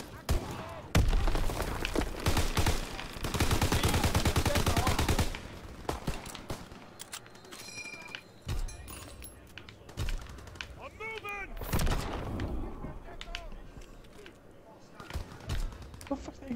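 Gunfire rips through a Call of Duty WW2 match, dense bursts of automatic fire early on giving way to scattered shots, clicks and game effects, with a player's voice talking over parts of it.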